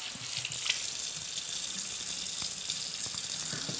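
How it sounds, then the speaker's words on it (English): Peppers rinsed under a running kitchen tap, a steady close hiss of flowing water into the sink with small splashes and knocks as the peppers are turned, no talking. "So let me rinse these. I'm just gonna rinse this out."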